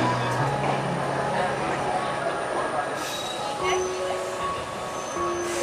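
The Kanchan Kanya Express (13149, Sealdah to New Mal Junction) rolls into platform 1 at night, a loud sustained rumble with thin squealing wheel tones and faint background voices.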